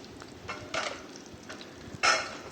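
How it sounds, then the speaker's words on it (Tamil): Mustard seeds crackling in hot oil in a pan, a few faint scattered pops and sizzling bursts over a quiet background, with one sharper burst near the end. "கடுகு நல்லா பொரிஞ்சு வரட்டும்"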